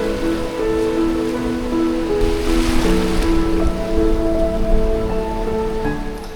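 Sea waves at Baguran Jalpai beach, a steady broad wash of surf rolling in continuously at moderate loudness, with background music running underneath.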